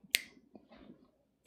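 A single sharp finger snap rings out near and crisp in a quiet room, followed by faint soft rustling and a smaller click at the end.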